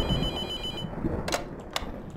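A telephone rings twice in The Mortuary Assistant, a horror game set in a mortuary, each short electronic ring cutting through a low steady background hum.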